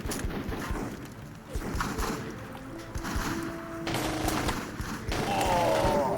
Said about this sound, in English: We're taking some bloody fire here!